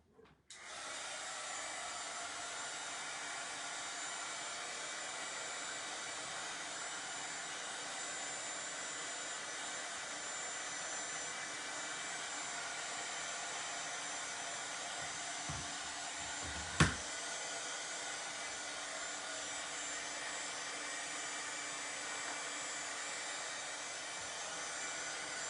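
A hair dryer blows steadily and close for a long stretch, drying a glitter snow craft design, with one brief knock partway through.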